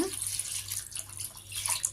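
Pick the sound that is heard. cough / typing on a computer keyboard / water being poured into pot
water being poured into pot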